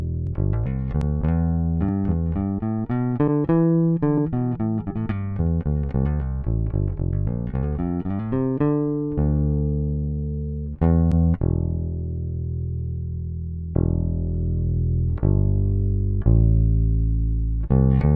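A bass guitar through a Universal Audio Teletronix LA-2A compressor pedal plays a quick run of plucked notes, then slower single notes ringing out with a smooth, even, clean tone, no voices.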